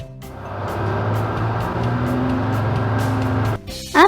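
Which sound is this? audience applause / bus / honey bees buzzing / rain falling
bus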